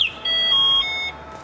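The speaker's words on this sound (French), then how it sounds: "la télécommande pour démarrer, éteindre le scooter ou enclencher l'alarme intégrée de série" An e-bonsaï Chappy 50cc-class electric scooter's built-in alarm, armed by remote, gives a short run of clear electronic beeps at stepped pitches, loud and close, with no one speaking.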